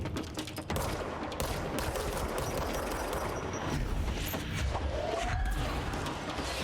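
Gunfire in the Control video game, a dense run of shots blending into a continuous rattle with loud game ambience throughout, no talking.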